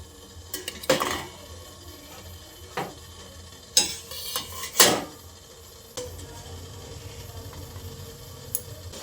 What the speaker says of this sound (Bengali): এবার একে একে বাটিগুলো এর মধ্যে বসিয়ে দিচ্ছি